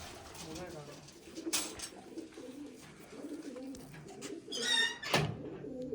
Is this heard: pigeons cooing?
yes